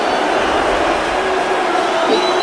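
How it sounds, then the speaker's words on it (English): A large arena crowd in Philadelphia gives off a dense, steady roar of murmur and scattered calls at a tense moment, loud and even throughout. "This crowd in Philadelphia on the edge of their seat wondering what is going on."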